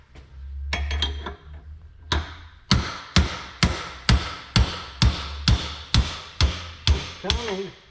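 Metal hammer blows striking a rusted, split wrench handle to knock it loose, about a dozen sharp ringing hits in a steady rhythm after a few scrapes and knocks, close and loud.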